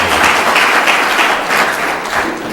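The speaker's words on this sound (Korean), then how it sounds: "한번 뜨거운 박수를 하나님께 감사합니다" Church congregation at an education mission conference applauding warmly, a dense steady wash of many hands clapping that fills the whole stretch at close, even loudness.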